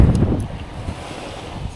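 Strong wind buffets the microphone during a fishing outing, a loud, rough roar that is heaviest at the start and then settles into steady rushing noise.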